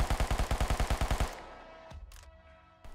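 An MP5 submachine gun in the Rust video game fires a rapid burst of about a dozen evenly spaced, loud shots, then stops, leaving a short ringing tail and a couple of faint clicks.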